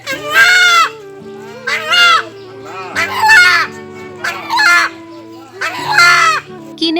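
A rooster crows several times in a row, loud and close, each call a long rising and falling cry separated by short pauses, with faint background noise between calls.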